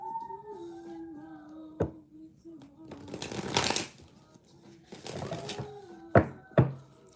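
Playing cards shuffled at close range in several bursts, crisp riffling whirs with sharp snaps as the deck bridges, while a person talks over and between the shuffles.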